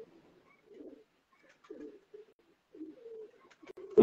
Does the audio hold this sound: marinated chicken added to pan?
no